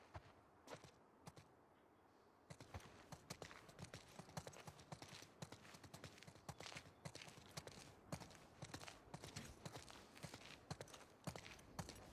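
Horse hooves clip-clop at a steady walking pace in The Last of Us Part 2, with a continuous run of fairly close, even hoofbeats and a faint ambient background, and no talk over them.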